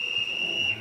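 A ship captain's shrill whistle, blown to summon the household, gives one sustained, piercing, steady tone, loud and alone.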